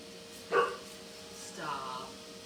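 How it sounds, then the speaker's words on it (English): A dog whines at a door indoors, with two short whimpering bursts about a second apart, moderately loud against a quiet room. "The doggy's whining at the door."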